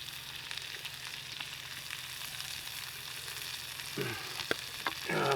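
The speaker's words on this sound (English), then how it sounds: "Ghee coating everything nice and even" Food frying in ghee on a hot grill grate outdoors, a steady bright sizzle and crackle close by, with a few clinks and scrapes near the end.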